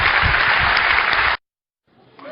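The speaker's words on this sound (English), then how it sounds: "I'd like to give him a round of applause" Audience applause for Intel CEO Paul Otellini taking the stage, a loud, dense burst of clapping that stops abruptly, followed by a short silence and faint room sound.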